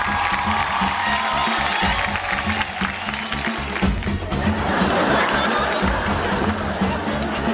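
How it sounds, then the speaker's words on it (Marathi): A studio audience at a Marathi television game show claps for a runner-up prize winner, the applause rising into a dense, sustained roar of hands and cheers. "जोरदार टाळ्या होऊन जाऊ दे"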